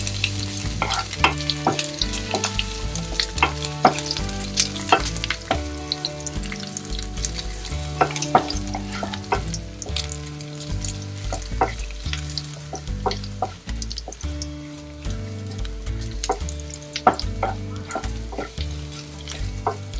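Unpeeled garlic cloves roast in a pan with a continuous crackling sizzle and repeated stirring scrapes, steady and close, while rhythmic background music plays throughout.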